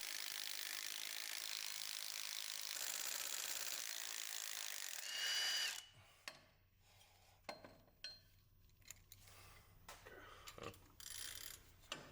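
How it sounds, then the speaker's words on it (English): A ratchet works on the driveshaft bolts of a 2024 Ford Ranger, first a long continuous whir, then a run of crisp, uneven clicking bursts close at hand with pauses between them; no speech is heard. "Remove the 4 bolts at the front and the 4 at the rear of the driveshaft."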